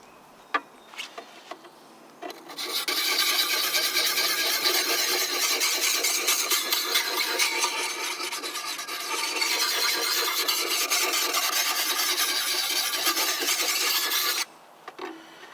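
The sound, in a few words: sharpening a hatchet on an oiled Lansky puck, fine grit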